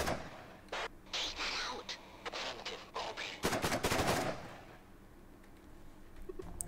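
In the video game Thunder Tier One, a squad fires at targets on a firing range, with bursts of rapid automatic gunfire and single shots, then a quieter pause before a few more shots.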